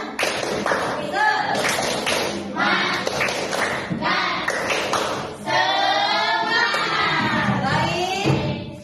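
A classroom of children performs a rhythmic spirit clap, bursts of patterned clapping alternating with loud chanted voices in unison, close and energetic throughout.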